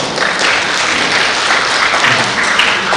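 An audience at a youth public speaking competition claps to welcome a judge, loud dense applause sustained evenly for a few seconds.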